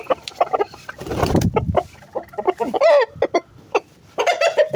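An Aseel rooster gives a run of close, loud clucks in short uneven bursts, with a few longer throaty calls, and no talking.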